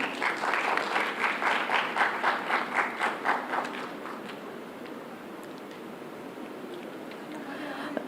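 Audience applause at a national conference for women in police comes as rhythmic clapping in unison for about four seconds, then fades into a low murmur of room noise.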